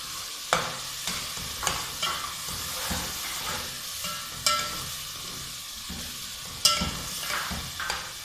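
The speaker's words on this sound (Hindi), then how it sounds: "अब हम इसमें अपनी सब्जियां डालेंगे।" Mixed vegetables fry in oil with softened tomatoes for a vegetable pulao, a steady sizzle broken by regular scraping stirs of a spoon against the pot, close and moderately loud with no talking.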